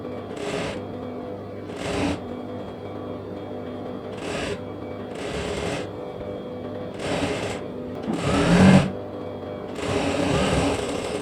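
A sewing machine stitches the side seam of a cotton nighty in repeated short bursts, about seven runs of rapid whirring separated by brief pauses, close and steady, with faint handling noise between runs.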